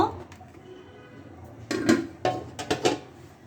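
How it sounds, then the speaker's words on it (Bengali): A lid clanks onto a metal pot of simmering lentils in a home kitchen, giving a few sharp clinks and rattles close by as it settles. "এখন আমি একটা ঢাকনা দিয়ে দেব"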